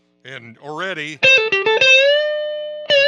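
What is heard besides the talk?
guitar through custom Hiwatt 40 amp at edge of breakup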